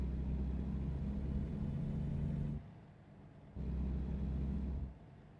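A truck engine idling in American Truck Simulator, a steady low rumble that cuts out briefly, returns, then drops away again near the end.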